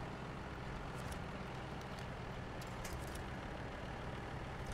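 A truck engine in SnowRunner drones steadily at low volume throughout, a continuous rumbling hum with faint mechanical clicks on top.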